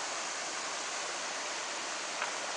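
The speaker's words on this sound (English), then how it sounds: "This is the Wissahickon Creek." Water of the Wissahickon Creek near Valley Green flows in a continuous, even rush, an unbroken steady hiss with no speech over it.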